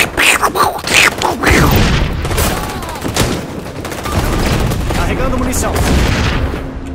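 Sniper rifle gunfire in the video game XDefiant, a loud shot cracking out early, then a dense stretch of continuous game battle noise carrying on throughout, with a voice talking over it.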